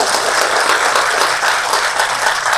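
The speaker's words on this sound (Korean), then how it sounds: "여러분들 따뜻한 박수." A conference audience applauds warmly after a speaker introduction at a Jeju development cooperation forum, a dense, steady wash of many hands clapping throughout with no voices.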